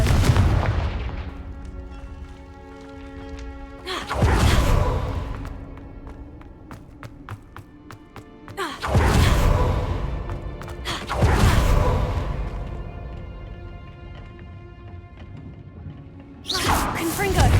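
Confringo blasting-curse explosions in Hogwarts Legacy, several deep booming blasts at intervals with rumbling decays, while a voice speaks spell names between them.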